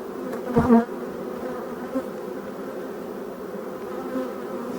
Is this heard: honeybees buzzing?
yes